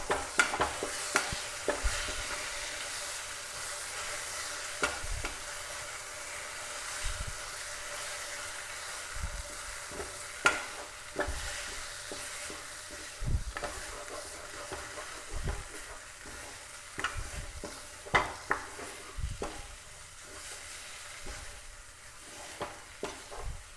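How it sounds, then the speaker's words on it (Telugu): Tempering spices are stirred into a toor dal chutney in a pan, with soft scraping strokes and faint crackles repeating at an irregular pace throughout. "దీనికంతా ఈ పోపు అంతా దీన్ని పట్టుకునేలాగా కలిపేస్తాం"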